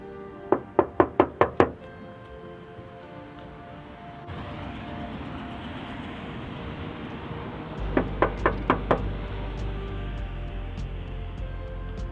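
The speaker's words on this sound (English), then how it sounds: "Let's knock on the door." Knocking on a door on a cold morning: a quick run of six sharp raps, then after a pause of rumbling background noise a second, softer set of five knocks.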